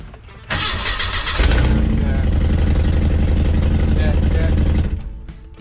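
A van with a leaking exhaust flange gasket cranks briefly and fires up, then settles into a loud, steady rumbling idle with a raspy, hissing edge before cutting off after about four seconds.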